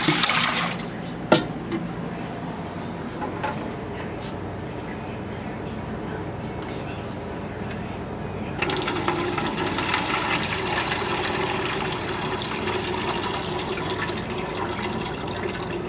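Water pours steadily into a container while 88 ounces are measured for a 10-pound batch of pizza dough, with a continuous rushing hiss that grows louder and fuller about halfway through.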